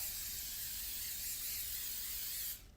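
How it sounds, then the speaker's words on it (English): A steady hiss of cooking spray jetting into a Pyrex glass dish for over two seconds, then cutting off abruptly. "I'm gonna take my Pyrex dish and spray it really well."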